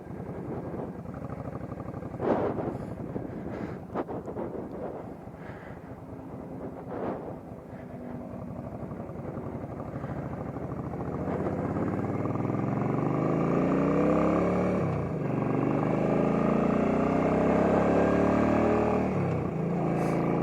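A 2003 Suzuki Volusia motorcycle pulls away in first gear and climbs a hill. Its engine drones steadily and rises in pitch as it revs up through the ride, with wind buffeting the microphone, and no voices are heard.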